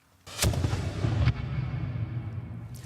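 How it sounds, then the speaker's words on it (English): A gunpowder cannon fires a cannonball: a sharp, loud blast followed by a rolling boom that decays slowly, with a second report partway through. "When the gunpowder in here explodes, it creates a huge amount of hot gas, the pressure of which drives the cannonball out of the barrel"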